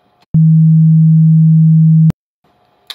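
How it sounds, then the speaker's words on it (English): A pure, steady low tone starts abruptly, holds evenly for nearly two seconds, then cuts off sharply, with faint quiet noise around it. "you're going to hear the sine tone."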